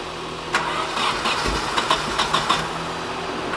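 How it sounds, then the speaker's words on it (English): A Nissan 240SX S14 engine cranks with a fresh fuel pump, a rapid chattering starter whir with repeated sharp bursts, close and moderately loud, without catching into a steady idle. "we're just going to see if the car will run with the new fuel pump"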